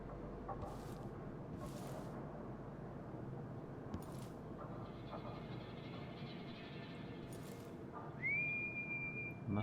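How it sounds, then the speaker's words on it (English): In the video game Dishonored 2, a character whistles a thin, sustained tune late in the scene, preceded by scattered clicks and bursts over a steady low ambient rumble. "Who is whistling there? Stop whistling out there."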